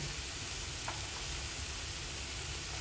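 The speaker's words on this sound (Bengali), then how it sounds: "মশলাটা ভাজা ভাজা হচ্ছে" Quiet, steady sizzle and crackle of salt, turmeric and red chilli powder frying in a pan, with a soft scrape of stirring.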